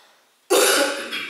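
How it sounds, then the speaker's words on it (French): One abrupt, loud cough bursts out close to the microphone after a quiet moment, then trails off into a breathy rasp. "Je tousse beaucoup, mais ça va mieux."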